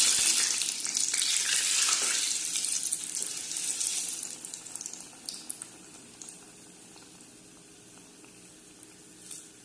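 Cassava coxinhas frying in hot fat give a dense crackling sizzle that is loud at first, then thins out to a quieter bubbling with scattered pops as the frying settles.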